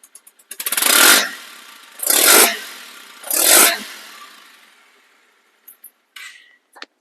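A second-hand Bajaj Avenger ABS motorcycle engine revs three times in a row, each a loud, close surge that rises and falls back to idle, followed by a few faint clicks before it goes quiet.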